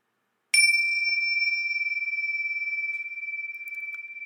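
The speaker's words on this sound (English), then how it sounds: "Ring the bell once more" A single bell strike rings out clearly in a quiet room, its pure, bright tone sustaining and slowly fading over several seconds with a gentle pulsing shimmer.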